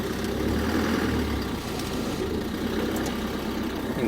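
Low, steady engine rumble of a car creeping forward in first gear in a slow border-crossing queue, a continuous idle-like hum with slight surges, close and unbroken.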